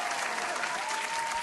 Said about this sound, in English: Give my guy a hand clap.